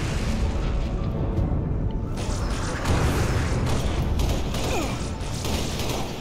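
A grenade going off in the video game Halo Reach, heard as a dense, loud rumbling blast and a roar of combat noise sustained throughout, with mechanical creaks mixed in.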